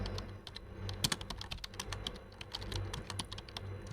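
A password is typed on a computer keyboard, a fast irregular run of close, quiet key clicks with no talk.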